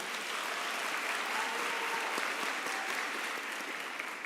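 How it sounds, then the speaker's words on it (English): A large graduation ceremony audience gives a sustained round of applause for a university choir, a broad even wash of many hands clapping in a big hall, steady throughout. "let us give them another big round of applause"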